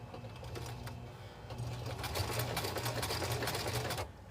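A sewing machine runs close and steady, its needle whirring in a rapid buzz as it stitches fabric for a princess seam top, with a brief pause near the start before sewing resumes.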